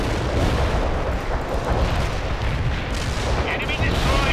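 Gunfire and artillery rumble steadily from a World in Conflict battle, a dense, continuous barrage of distant booms and shots that fills the whole span with no pauses.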